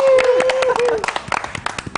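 Studio audience at a Voice of Ukraine TV broadcast clapping for the finalists, scattered claps growing into quick rhythmic applause, under and after a tonal voice or sung note at the start.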